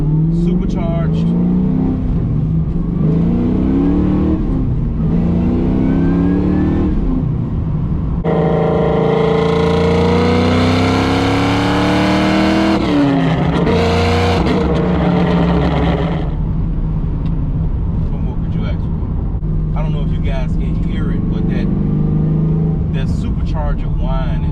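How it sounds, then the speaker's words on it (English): Supercharged LSA V8 in a Pontiac GTO, a loud rising engine howl with high supercharger whine that swells sharply in the middle, then eases off, while people talk in the car before and after. "Supercharger whine is like everything. I like hearing that more than a turbo spooling up."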